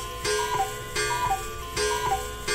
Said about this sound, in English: Cuckoo clock sound.